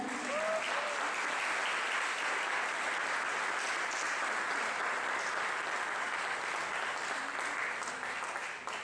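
An audience at an international culture symposium gives sustained applause, a dense, even roar of many hands clapping that continues for several seconds, close and full, with no talk over it.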